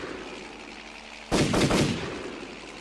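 A single sharp blast bursts out partway through, followed by a rough, roaring tail of gunfire aimed at a helicopter that fades over about a second.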